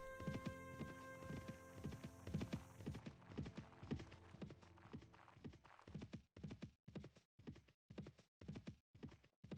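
Rapid, rhythmic hoofbeats of a galloping horse in Mount and Blade: Warband, close and steady, with game music fading out after a few seconds and the hooves continuing alone.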